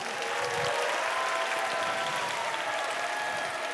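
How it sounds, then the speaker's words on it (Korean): A church congregation applauding young members returning after a long absence, a soft, even patter of clapping from the room that continues without a break. "우리 장결자 박수를 합시다"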